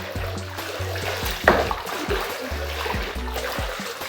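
Very hot water mixed with laundry stripping ingredients is stirred in a tub, giving a continuous close sloshing and splashing with one brief louder splash, over a low steady hum.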